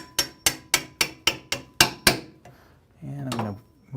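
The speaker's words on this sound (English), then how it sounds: "And use our hammer to tap it back through." A hammer taps a hinge pin through a lid spring with eight sharp, evenly spaced metallic strikes, followed by a brief clunk and a short stretch of rustling handling.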